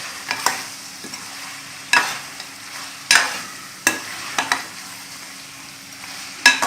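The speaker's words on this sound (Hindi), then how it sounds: "इसमें टमाटर और प्याज बिल्कुल फ्राई होकर इसमें मिक्स हो चुके हैं" Desi chicken fries with tomato and onion in a pan, a steady low sizzle broken by several sharp scraping stirs of a spoon against metal at irregular intervals, close and moderately loud, with no talk.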